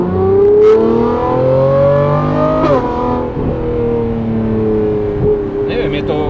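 A Lamborghini Revuelto V12 with a Gintani F1 exhaust revs loudly and close, its pitch climbing and then dropping away with sharp pops between revs, while someone talks over it.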